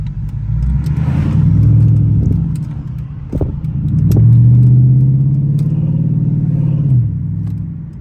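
A Dodge Challenger SRT8 V8 rumbles while driving, a deep, steady engine drone that swells and eases with throttle, with a faint pop near the middle and no talking.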